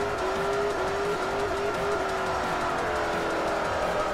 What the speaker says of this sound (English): So I'll lay a nice big burnout here, warm up the tires.